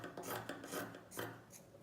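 Scissors snip through fabric strips for a homemade dog toy, several close rasping cuts in an uneven rhythm, each a short scratchy crunch with brief pauses between.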